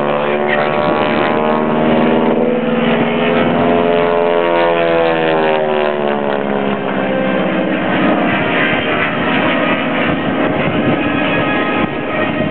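A WW2 propeller training aircraft flies past at an air show. Its loud, droning engine rises and falls in pitch as it sweeps by, sounding strong and continuous throughout.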